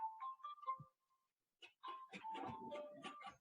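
A phone rings muffled inside a closed desk drawer in an office building, giving a brief tonal chirp at the start, then a pause, then a longer stretch of dull, busy noise.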